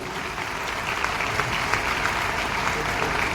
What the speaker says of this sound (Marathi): एकदा त्यांच्यासाठी जोरदार टाळ्या होऊन जाऊ द्या